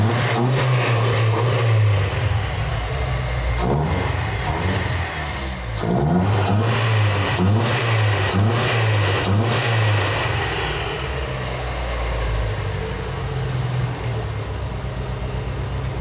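A car engine is revved while decarbonizer cleaner is sprayed into the throttle body injection (TBI), a low steady idle rising into repeated revs and falling back, with hissing spray bursts over the engine hum.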